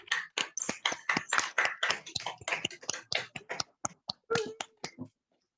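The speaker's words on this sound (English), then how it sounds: "let's leave them with a really loud clap" A burst of clapping from a handful of people on a video call, sharp separate claps in an uneven rhythm, thinning out before stopping.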